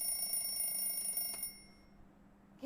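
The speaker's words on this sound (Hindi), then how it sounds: "अरे नीतू, अलार्म बंद करो।" An alarm clock rings with a bright, continuous electronic trill for about a second and a half, then cuts off, leaving quiet room tone before a brief sound at the very end.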